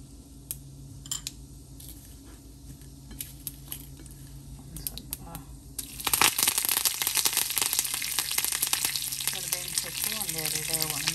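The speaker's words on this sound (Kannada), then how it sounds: "ಅದಕ್ಕೀಗ ಒಂದು ಒಳ್ಳೆ ಒಗ್ಗರಣೆ ಹಾಕೋಣ." Spices for a tempering hit two or three spoons of hot oil for a ridge gourd and green gram curry. After a quiet start, a loud, close, crackling sizzle bursts in and keeps spitting to the end.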